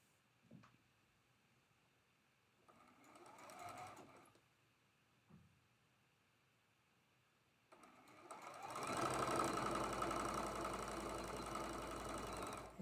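A sewing machine stitches quilt block triangles, with short bursts and a pause before a long steady whirring run near the end, close and fairly loud.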